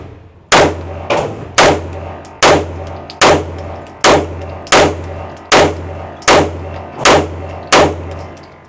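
Ten sharp, loud pistol shots from a Kimber 2K11 with a 5-inch barrel, fired at a steady rhythm about every three-quarters of a second at a target, each crack ringing briefly before the next.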